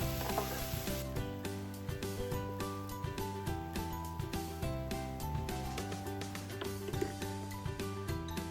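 Noodles fry in a pan beside a hotpot, giving a steady, close sizzle with repeated soft stirring and scraping strokes throughout.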